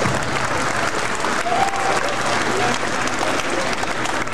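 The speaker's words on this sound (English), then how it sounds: "Come on, y'all, let's clap." An audience at a 1994 USAC regional awards ceremony breaks into loud, steady applause, a dense wash of many clapping hands close by that holds evenly throughout, with faint crowd murmur mixed in.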